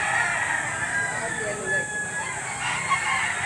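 White Hatch gamecock roosters crowing at a livestock auction market in Lipa, several drawn-out crows overlapping a busy background, with someone talking nearby.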